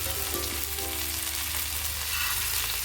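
Chicken tikka pieces fry steadily in a pan over a low gas flame, giving a continuous, close sizzle with faint crackles, alone without any talking.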